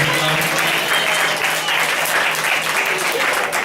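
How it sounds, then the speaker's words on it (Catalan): Audience applause after a primary-school children's concert with a space theme, a dense steady wash of clapping that fills the whole stretch at a fairly loud, even level. "Molt bon aplaudiment per aquests astronautes."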